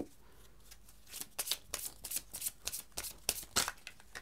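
Tarot cards are shuffled and drawn up close, a quiet run of rapid riffling flutters and soft slaps coming in uneven bursts, with no talk over them.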